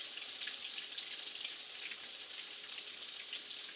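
Latkes frying in hot oil, a steady bright sizzle and crackle that holds evenly throughout, close but fairly quiet.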